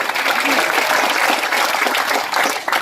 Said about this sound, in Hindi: एक बार जोर से तालियां बजाकर स्वागत करो अगर मंजूर है तो।